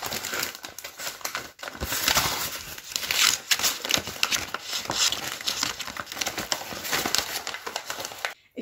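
Wrapping paper crinkles and rustles steadily up close as it is folded around an order package, with brief pauses between bursts of crumpling.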